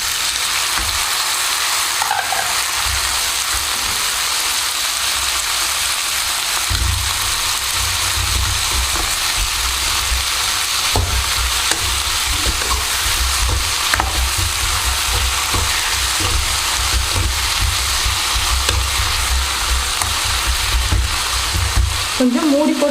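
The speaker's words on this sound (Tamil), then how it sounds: "இது கூட நம்ம தக்காளி சேர்த்து வதக்கிக்கலாம்" Tomatoes and onions sauté in a pan for oil brinjal gravy, a continuous loud sizzle and crackle with occasional stirring scrapes running the whole time.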